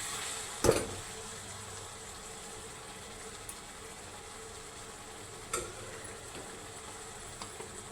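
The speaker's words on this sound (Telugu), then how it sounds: "ఇప్పుడు కోసి పెట్టుకున్న టమాటా ముక్కలు వేస్తున్నాను" A soft, steady sizzle of chopped tomato pieces frying in a pan, with a brief clatter near the start as they go in and a few faint knocks later.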